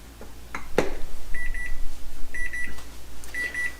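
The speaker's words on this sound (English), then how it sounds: "timer's going off" A kitchen timer goes off in a home kitchen, sounding three bursts of rapid high beeps at regular intervals, each with a clatter of handling noise between them.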